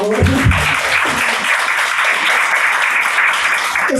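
Congregation applause for the praise minister at a prayer group gathering, loud and continuous clapping from a room of people, with a faint voice at the very start.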